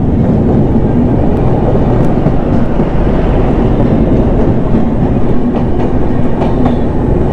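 Delhi–Kamakhya express train passing close by on the tracks, a loud, steady rumbling roar with rhythmic clatter of wagons rolling continuously throughout, with no talking.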